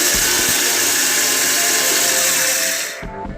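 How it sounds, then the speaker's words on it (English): An electric spice grinder coarsely grinding whole spices for a green chilli pickle, a loud steady motor whir with rattling contents that winds down and stops at the end. "I'm going to coarsely grind this just for 30 seconds"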